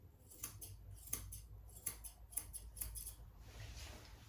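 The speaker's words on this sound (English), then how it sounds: "it's easier with curved scissors. Take off all that hair there that's above." Curved grooming scissors snip hair on a dog's ear in a series of quick, quiet, close crisp cuts, about a dozen in irregular rhythm, over a low background hum.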